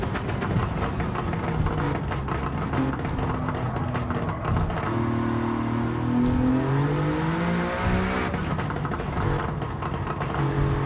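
Toyota 86 with a swapped Alfa V6 racing in Gran Turismo 7, the engine revving hard and continuously with pitch rising and falling through gear changes, loud and constant throughout.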